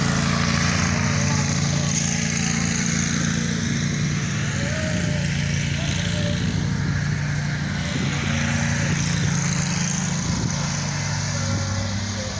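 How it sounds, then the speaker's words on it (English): A lawn mower runs steadily through a fall lawn thick with thatch, its engine a constant close drone for the whole stretch, with faint background sounds mixed in. "Mowing it 2 ways this first time, just to get rid of some of this stuff, all this thatch."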